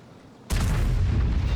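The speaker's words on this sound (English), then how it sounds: "So I fired, that shot got me spotted" A tank cannon fires in World of Tanks, M40/M43 self-propelled gun, as one sudden loud boom that cuts in over a quiet background and rolls on into a sustained heavy rumble.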